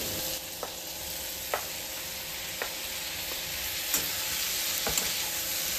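Tomatoes, cashews and whole spices sauté in a kadhai for paneer curry, giving a constant bright sizzle with a few isolated metallic taps from stirring, no voices.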